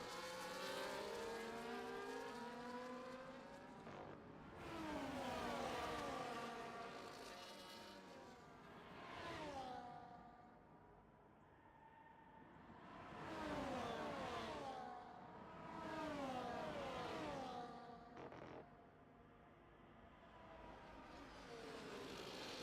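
Formula 1 cars in the F1 video game racing at Spa, Belgium, several engines wailing past in repeated waves that rise and fall as the cars pass, with long gliding pitch changes and no talk.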